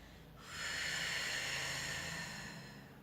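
A single long, deep exhale through the nose during a pelvic stretching exercise, breathy and hissing, close to the microphone, swelling then slowly fading over a few seconds.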